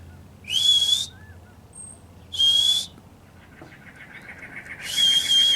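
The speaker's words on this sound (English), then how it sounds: "I don't know if the camera's picking up, but they're whistling." Three short, high-pitched whistles from prairie dogs, each under a second, spaced a couple of seconds apart against a quiet outdoor background in Arizona.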